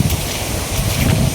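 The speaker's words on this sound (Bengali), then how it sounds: "বাতাস শুরু হয়েছে আবার" Strong wind gusts across an open field beside a riverbank after rain, a loud, rough roar buffeting the microphone throughout.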